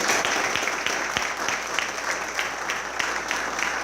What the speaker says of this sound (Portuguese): Eu peço uma salva de palmas para o nosso delegado.